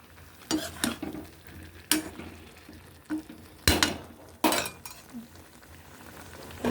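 A ladle scrapes and stirs carrot stir-fry in a pan, with about five or six sharp irregular clatters of metal against the pan over a soft low sizzle, close by and without voices.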